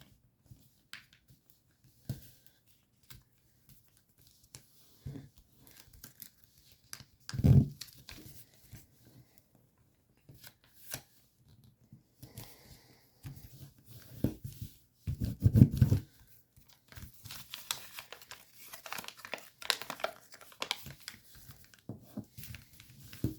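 Paper is folded and creased into an origami fighter jet, with faint, sparse crinkles, soft taps and a few louder rustling bursts of handling close by in a quiet room.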